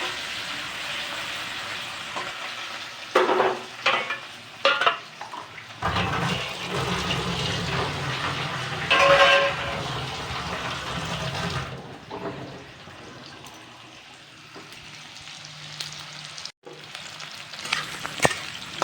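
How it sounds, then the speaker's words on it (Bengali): Chopped onions fry in oil until crisp for a jackfruit dish, producing a loud bubbling sizzle that rises and settles, with occasional stirring clatters and no talk. "এখানে আমি পেঁয়াজগুলোকে লাল লাল করে মুচমুচো করে ভেজে ফ্রাই করে নেব"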